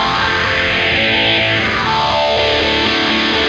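An electric guitar played through a Big Muff fuzz pedal with a Phase 90 on a song, a thick, saturated sustained roar with sweeping phaser movement, loud and continuous with no voice.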